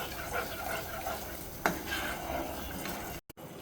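Egg korma masala sizzles in a pan as it is stirred, a steady frying hiss broken by scraping strokes and a sharper clink of the spoon against the pan, then a brief dropout.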